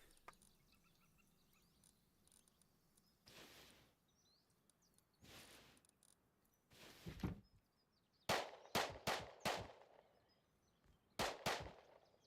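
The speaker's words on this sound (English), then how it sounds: "What's he shooting at?" Gunfire in the survival video game Rust, a few faint distant shots followed by clusters of sharper, closer shots in quick bursts over a quiet outdoor ambience.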